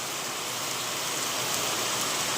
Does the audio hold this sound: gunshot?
no